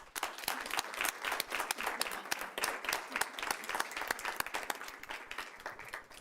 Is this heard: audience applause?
yes